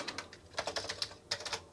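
Quick bursts of key clicks typed on a Commodore 64 keyboard during a test of the machine, close and crisp, in two short runs with a brief pause between.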